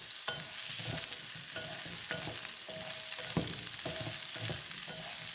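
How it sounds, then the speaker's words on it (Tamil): Small onions frying in oil and being stirred for a fish curry: a steady close sizzle broken by regular scraping strokes of a spoon in the pan, no voices. "சின்ன வெங்காயம்லாம் இதுக்கு வறுத்து போடுறேன் நான்"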